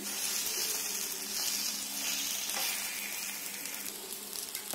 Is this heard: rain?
no